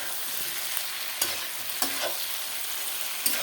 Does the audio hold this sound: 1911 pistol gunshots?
no